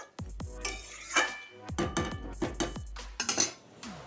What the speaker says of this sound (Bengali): জল দিয়ে আবার নেড়ে চেড়ে নিচ্ছি আমি